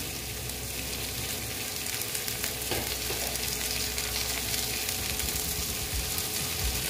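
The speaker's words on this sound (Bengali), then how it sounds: "টমেটো কুচি দিয়ে আবার একটু ভেজে নেব, একদম ভালো মতন ভাজবো" Chopped tomato fries with onion in a pan, giving a dense continuous sizzle up close, with a few stirring clicks partway through and no one speaking.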